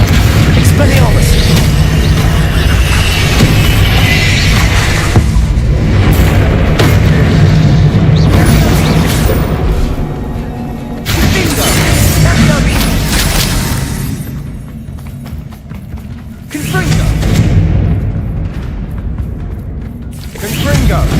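Repeated spell blasts from Confringo and Bombarda in Hogwarts Legacy, loud booming bursts one after another over a dense, constant game-sound backdrop, with brief dips in between.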